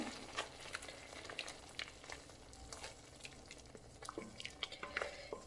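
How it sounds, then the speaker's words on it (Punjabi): Peas and potatoes frying in a pan with spices and a spoonful of fresh cream give a quiet, continuous sizzle, with occasional stirring scrapes and soft pops. "ਇਹਨੂੰ ਵੀ ਆਪਾਂ ਥੋੜਾ 2 ਮਿੰਟ ਲਈ ਭੁੰਨਾਂਗੇ"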